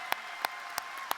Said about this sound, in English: please join me in giving applause and showing our fraternal appreciation to these members